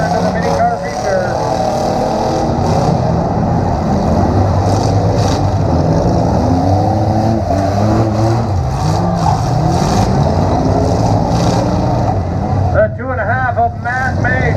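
Six mini race cars roar away from a grandstand start at a speedway feature race, engines loud and continuous with revving surges, while an announcer talks over the PA.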